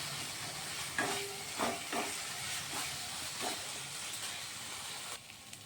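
A spoon stirs and scrapes a thick jackfruit and prawn kofta masala in a hot pan, with a steady sizzle and hiss and several distinct scraping strokes close by, no talking.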